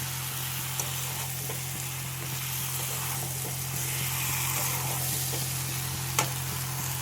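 Spiced meat with potatoes fries in a pan, giving a continuous close sizzle and hiss, with a few sharp scrapes and taps as it is stirred.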